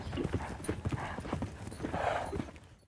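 Horse hooves clip-clop steadily on firm ground, a close, moderately quiet run of uneven hoof strikes with faint background rustle and no talk.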